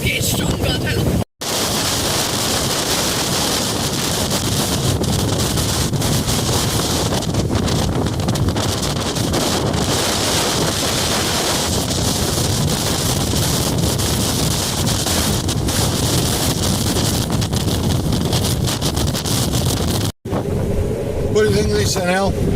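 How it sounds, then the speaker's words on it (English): Strong gusting wind buffets a parked car by the sea at Fomm Ir-Rih in Malta, a loud continuous roar of wind noise across the microphone with brief dropouts, and a person talking underneath. "It's really windy, isn't it? It's a bit scary. The car is rocking like mad, isn't it?"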